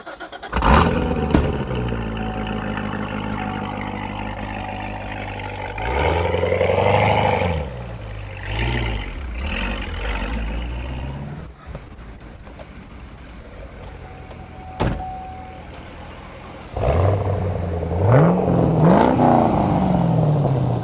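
A V8 car engine started and revved in an underground garage. Loud, deep swells and throttle blips rise and fall repeatedly, with idling lulls and a sharp rev near the end. The sound is close and echoing.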